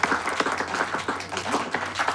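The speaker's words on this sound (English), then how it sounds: "Round of applause for our willing volunteer, everyone." A small group claps for a volunteer in a TV drama scene, close, uneven claps with a busy rhythm and a low hum underneath.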